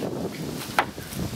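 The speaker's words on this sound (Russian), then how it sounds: "Вот ветер несет. Надо прижимать." Wind blowing outdoors near a ferry crossing, buffeting the microphone in low rumbling gusts with one sharp brief flap midway, fairly close and without speech.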